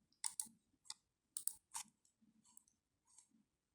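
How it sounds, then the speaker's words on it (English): Computer mouse right-clicking while working in Photoshop, giving several sharp, close clicks in irregular bursts against a quiet background. "Right click here"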